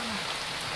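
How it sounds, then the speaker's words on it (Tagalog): Heavy rain pours in Parañaque during a storm, a dense, steady hiss of water drumming on surfaces with no break, loud and close. "ang lakas ng ulan dito guys sa Paranaque"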